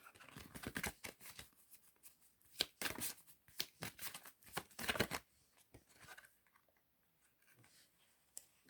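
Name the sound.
cards being shuffled for a card reading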